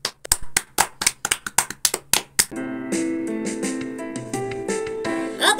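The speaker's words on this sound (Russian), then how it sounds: "Аплодисменты." Sharp, uneven claps ring out for about two and a half seconds as a student is introduced on stage at a school first-of-September event, then give way to a sustained musical tone.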